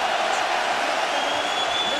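Rugby World Cup 2007 quarter-final crowd, England against Australia, roaring at a Wilkinson kick: a broad, steady wash of stadium noise that holds loud and even throughout, with commentary faintly beneath.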